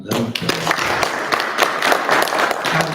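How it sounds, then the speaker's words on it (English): At a public commission event on governance and ownership, an audience applauds a departing speaker with a few seconds of moderate, steady clapping, with voices murmuring underneath. "Round of applause for Catherine"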